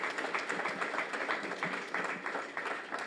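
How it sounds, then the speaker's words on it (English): Audience applause at a nurse practitioner graduation ceremony, a continuous patter of many hands clapping at moderate level, steady for the whole stretch with no voices on top. "Can y'all give him a round of applause?"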